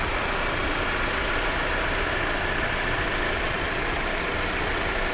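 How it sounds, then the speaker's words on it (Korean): An Audi A6 TFSI quattro engine idles evenly, heard close up from the open engine bay as a steady, unbroken hum with no voices. "엔진 소리도 일정하고 좋습니다"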